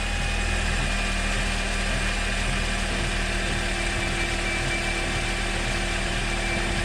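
A Toyota Camry engine idles steadily at close range, a constant low hum with a faint rhythmic pulse that holds level throughout with no voices.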